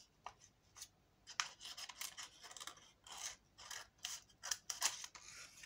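Scissors snip through material to shape a pouch fold, a quick run of close, crisp cuts and rasping strokes in an uneven rhythm, with no talking.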